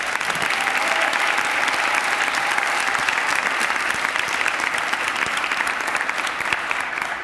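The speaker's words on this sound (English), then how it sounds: "he deserves this incredible round of applause" An audience at a city announcement event gives the mayor a long round of applause, dense continuous clapping at steady loudness with no talk over it.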